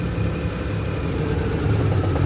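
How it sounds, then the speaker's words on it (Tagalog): A car engine idles steadily after ignition troubleshooting, a close, even mechanical hum with a faint knocking rhythm and no voices over it. "Linaw na yung tunog ng makina"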